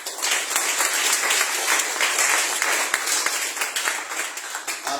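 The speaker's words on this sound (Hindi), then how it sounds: "आप ताली बजा दें यीशु के लिए।" Church congregation clapping during a Sunday service, dense sustained applause from many hands with a loose rhythmic pulse, fairly loud and continuous for several seconds.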